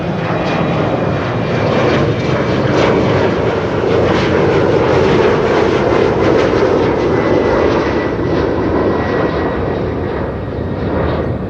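An Embraer 190 airliner in German Airways special livery, flying for KLM, roars steadily with jet engine noise, loud and close throughout, the broad rumble holding level without a break.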